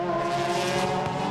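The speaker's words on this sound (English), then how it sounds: "There's a Porsche getting lapped by 2 of the Honda NSXs in third and fourth place." Super GT race cars at Autopolis in 2006, two Honda NSXs running nose to tail as they lap a Porsche, a sustained high engine scream sweeping past at moderate distance with no talk over it.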